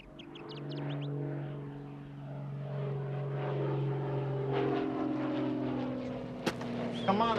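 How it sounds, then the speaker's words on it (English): A propeller airplane drones overhead as it comes in to land, a steady tonal engine hum swelling louder with harmonic whine, faint bird chirps and a sharp click near the end. "See that airplane? It's coming in here to pick up Burkett."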